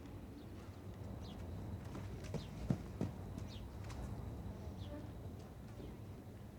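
Hooves of a wild mustang clip-clop faintly and unevenly over steady outdoor background noise, a few sharper knocks standing out midway, with soft speech nearby.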